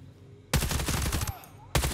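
Gunfire in Ghost Recon Breakpoint on the Driftwood Islets testing zone: after quiet, a loud close rapid burst lasting nearly a second, then another sharp burst starting at the end.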